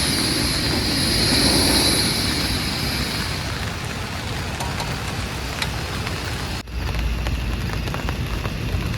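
Heavy rain drums steadily on a tent during a solo camping trip on Bukit Purnama Puncak 2, a dense continuous wash with no talk, briefly dipping near the end before resuming just as strong.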